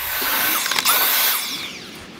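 Air blast blowing debris off the underside of a battery lawn mower, a loud steady hiss held for the whole clip with a brief surge near the middle.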